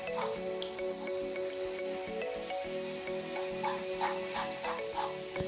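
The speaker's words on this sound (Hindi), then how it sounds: "मैं इसे एक स्पून और फोक की मदद से अच्छे से मिक्स कर रही हूँ" A spoon and fork stir Maggi noodles with vegetables in a hot pan for pizza Maggi: a steady, soft sizzle with repeated light scraping strokes, under faint tonal background sound.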